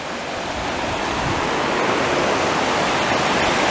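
Rose River in Shenandoah National Park rushing below a metal bridge, a steady broadband wash of flowing water that stays loud and even throughout with no voices.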